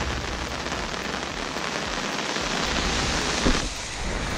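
Steady rain pours down around a bus stop on Jeju Island where people huddle under a shared umbrella, a dense continuous hiss with a brief louder spatter near the end and no talking.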